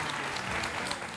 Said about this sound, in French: Applaudissez Déborah